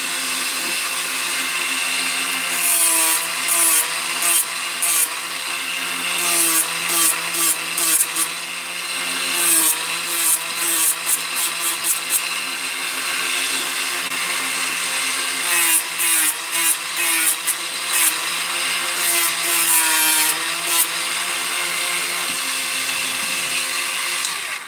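Matt files a burr off a peened-over chain link with rhythmic bursts of rasping strokes, in clusters, near and fairly loud over a steady harmonic background hum.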